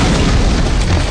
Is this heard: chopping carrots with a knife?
no